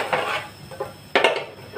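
Spoon scraping and clinking against a pan while brown sugar and seasoning are stirred into a vegetable stir-fry, with two separate bursts of stirring a moment apart.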